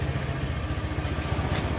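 Automatic scooter engine idling while warming up without throttle, a steady low putter with an even rhythmic chug, close and continuous with no revving.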